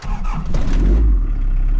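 A diesel car engine cranks and catches after its glow plugs have warmed, starting cleanly with a loud, close rumble that settles into a steady idle.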